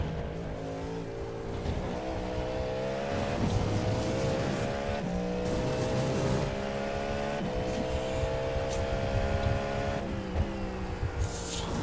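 A Cadillac GTP prototype race car at the Le Mans 24 Hours gives a loud, sustained, high-revving engine howl from on board, its pitch climbing and shifting through the gears with no pause.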